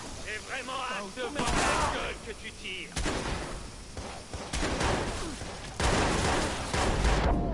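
Gunfire in the Watch Dogs video game, with repeated bursts of shots and booming impacts across several seconds, while someone talks excitedly over the action.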